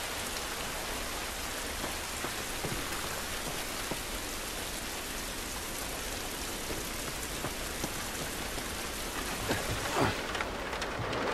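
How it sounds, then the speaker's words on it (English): Heavy rain falls steadily in the video game The Last of Us, a dense, constant hiss of drops pattering on surfaces, with occasional louder splashes near the end. "This rain ain't gonna do us any good."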